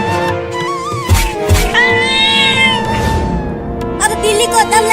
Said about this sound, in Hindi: अब बिल्ली को दम लगा के खींच चिंकिया।